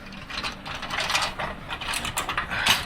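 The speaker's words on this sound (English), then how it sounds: "Put the wrench, turn it until the wrench helps you break it" Ratcheting clicks from a breaker bar and wrench loosening 14 mm bolts on a Nissan 350Z differential, a steady run of close mechanical clicking and grinding that continues for about three seconds without speech.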